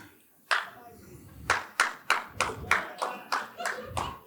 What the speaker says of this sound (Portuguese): Vamos aplaudir as palmas